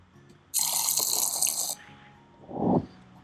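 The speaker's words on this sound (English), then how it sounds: "So here pouring water into cup sound effect." Water pours into a cup as a coffee-style sound effect: a bright, steady splashing stream for just over a second, a short pause, then a brief lower gurgling splash.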